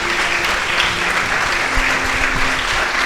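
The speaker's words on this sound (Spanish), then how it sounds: "les damos un fuerte aplauso" An audience at a church baptism and membership service applauds warmly, a dense, even wash of many hands clapping that fills the room for a few seconds without pause.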